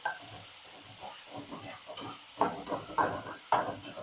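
Tomatoes sizzle in a hot pan while cooking bitter gourd curry, stirred with several scraping clinks of a spatula against the metal.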